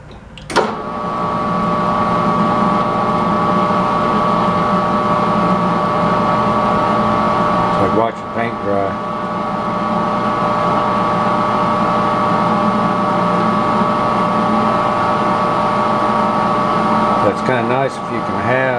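A metal lathe turns 1018 steel at 70 RPM with a high-speed steel tool, a steady mechanical hum with a constant tone throughout, while someone talks over it.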